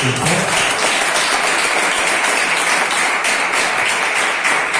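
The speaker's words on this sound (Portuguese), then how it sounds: "Quem pode aplaudir Jesus?" A church congregation applauding during a worship service, dense continuous clapping from many hands filling the room at a steady loud level with no talk over it.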